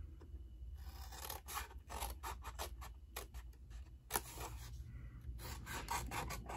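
Scissors trim a small strip of paper or card for a handmade gnome gift box, giving close, quiet rasping snips in an uneven series over several seconds.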